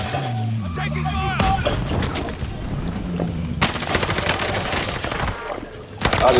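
Rapid bursts of automatic gunfire from a Call of Duty Warzone battle royale match crackle through the scene, with some louder nearby shots, under players' excited chatter.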